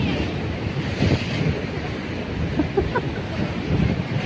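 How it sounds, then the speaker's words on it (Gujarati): Rough sea surf surging against the steps of a shore at Diu, a steady broad roar with gusts of wind buffeting the microphone and faint voices in the background. "કેવા મોજા આવે એમ જો"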